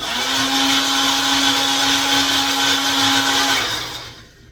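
A food processor or blender runs steadily and loudly while making a flourless chocolate cake batter, a continuous whirring motor drone for several seconds that winds down at the end, with no talk.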